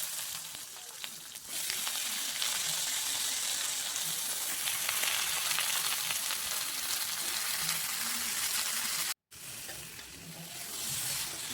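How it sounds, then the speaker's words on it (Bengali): Vegetables lightly stir-fried in a little oil in a pan for a singi fish curry, sizzling steadily and loudly with stirring scrapes, a brief cut near the end before the frying resumes. "অল্প একটু তেল দিয়ে আমি সবজিগুলোকেও হালকা একটু নেড়ে নেব"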